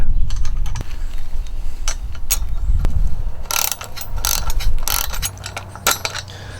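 Ratchet socket wrench clicking in rapid bursts while tightening lock nuts under a plate on a truck bed kayak rack, close and fairly loud, with a few metallic clinks and no talk.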